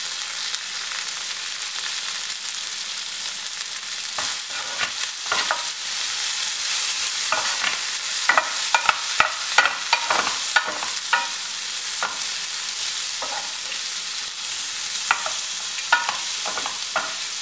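Food sautés over a steady hiss of frying in a pan while a spoon stirs it with repeated scraping clicks and taps, close and fairly loud throughout, in a Kerala-style kitchen.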